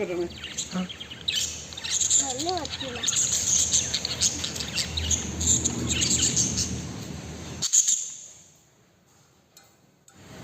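Small birds chirp and tweet inside a large homemade aviary built from wiring pipe and netting, with bright repeated calls and a few rising whistles over a low murmur, until the sound drops away abruptly near the end.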